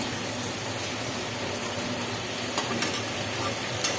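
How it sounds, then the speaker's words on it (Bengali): Papad and potato curry cooks in a pan with a steady close sizzle and frying hiss, broken by a few faint clinks of stirring near the end, with no voices. "পাপড় আলুর তরকারিটা বসিয়ে দিয়েছি, তরকারিটা হচ্ছে এখন"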